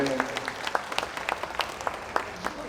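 Scattered applause from an audience, uneven claps with some murmuring voices mixed in, fairly steady throughout, during a saxophone performance at a garlic and Korean beef festival.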